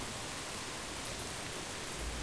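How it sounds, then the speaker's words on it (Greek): Steady rain falls in Don't Starve Hamlet, a soft, even wash of noise with no other sounds, faint and continuous. "Πάλι βρέχει."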